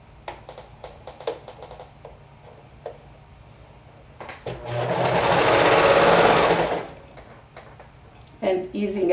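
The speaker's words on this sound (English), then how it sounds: "I'll start sewing from this side" Sewing machine stitching a cardigan seam in a steady run of about two and a half seconds midway, loud and close, framed by soft handling taps and fabric rustle before and after.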